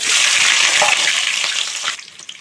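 Dried kaddi fish dropped into hot oil, giving a loud close hissing sizzle that holds steady and then starts to fade and break up into scattered crackles near the end.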